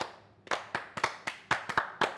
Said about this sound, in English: Let's all clap in sync to synchronize.